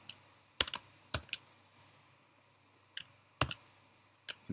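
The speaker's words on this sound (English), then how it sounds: "type out this quite long string where first of all I'm going to put the path of the Python" Typing on a computer keyboard at a PC command prompt, entering a long path string: several quick bursts of sharp, close key clicks separated by short pauses, over a faint low hum and no speech.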